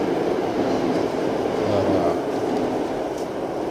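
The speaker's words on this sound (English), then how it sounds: "Sorry about the train in the background." A train rumbles past in the background, a broad steady roar with faint rhythmic clatter and no voices.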